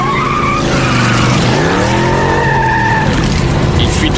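A car skids hard with a loud, sustained tire squeal, its pitch wavering and sweeping over several seconds, close and dominant with engine noise underneath.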